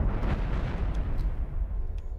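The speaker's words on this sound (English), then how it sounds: "Too many nukes flying at it." Nuke explosions strike a ship in the Cosmoteer video game, a heavy booming blast that rumbles loudly and then fades over a couple of seconds, with no talking.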